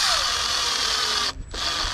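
A power drill fitted with a 6-inch bit drives a screw into a wooden pergola, giving a loud, continuous whirring grind with a brief dip in pitch and level near the end.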